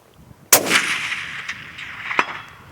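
A single loud, close 7mm PRC rifle shot from a Savage Impulse Mountain Hunter straight-pull at a long-range shooting session, followed by a long rolling echo and a faint later crack.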